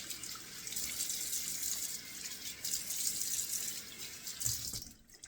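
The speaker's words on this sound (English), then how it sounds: "I'm going to rinse this off." Tap water runs steadily into a sink to rinse off lime shave soap, a close, even hiss of flowing water that cuts off abruptly at the end.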